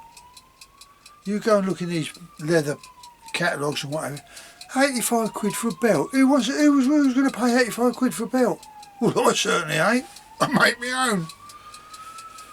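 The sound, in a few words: emergency vehicle sirens passing outside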